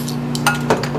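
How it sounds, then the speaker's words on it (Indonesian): Bowls and spoons clink and knock together in a kitchen after dishwashing, several light scattered clinks over a steady low hum, close by with no talking. "Sekarang aku nyiapin mangkok"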